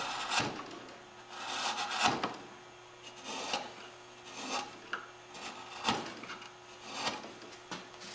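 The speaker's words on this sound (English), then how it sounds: "I can come back in here and remove these bandsaw marks with a gouge." Hand gouge shaving bandsaw marks off curly maple for a spice box, giving repeated rasping, scraping strokes at an irregular pace, close and fairly quiet with a steady low hum behind, no talking.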